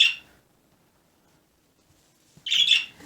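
Birds give loud, harsh squawks in two short bursts, one at the start and one near the end, separated by near silence.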